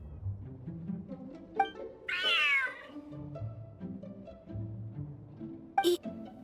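A cat in the video game Genshin Impact gives one clear, drawn-out meow that rises and falls, heard close over a low in-game music and ambient bed, with a few faint clicks around it.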